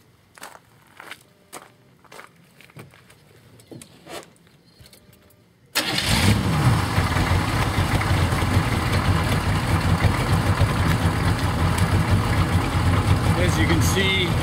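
A 27-year-old diesel engine running at operating temperature on an 80% vegetable oil and 20% turpentine blend cranks and catches, then settles into a loud, steady idle after quieter footsteps and handling noises.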